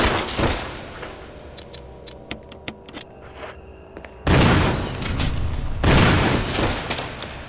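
A shotgun blasts at spiders in the Resident Evil remake video game, several sharp booming shots with a mechanical pump clatter between them, then two long, loud roaring bursts close up.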